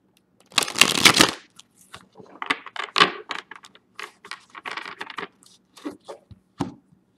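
Tarot cards are riffled and shuffled in quick, crisp bursts, with a long flutter at the start followed by shorter snapping shuffles, close and fairly quiet.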